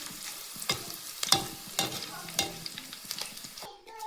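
Crushed garlic cloves stirred into a hot oil mixture with curry leaves and chillies, a soft sizzle punctuated by sharp, repeated scraping clacks of a spoon against the pan, close and clear.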